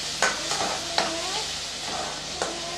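Ground tomato paste sautéing in a pan for an okra gravy, with a steady sizzle and a few light scrapes and clinks from stirring.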